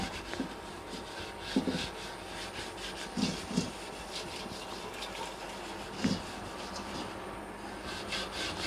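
A copper or brass vessel is scrubbed by hand with leftover dosa and idli batter, giving soft continuous rubbing strokes with a few louder scrapes, close and fairly quiet.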